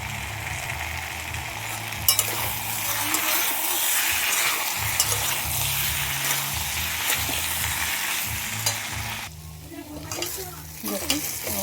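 Bottle gourd curry for lau ghonto frying in ghee in a pan, a steady sizzle with scraping stirs throughout, close and fairly loud, dipping briefly near the end before the stirring resumes.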